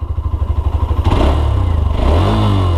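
Hero Xtreme 125R ABS motorcycle engine, idling with a steady low throb before revving up around midway into a louder, rougher drone, close by with no talk.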